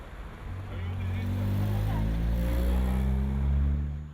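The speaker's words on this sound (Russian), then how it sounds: "маршрутка, набрав пассажиров, выезжает" A marshrutka minibus pulls away from a bus stop with its passengers aboard. Its engine gives a steady low drone that swells a little as it moves off, close by and continuous.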